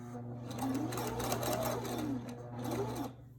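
A sewing machine stitches and backstitches a fabric mask in quick, even bursts of rapid mechanical whirring, each pass stopping briefly before resuming, heard close up.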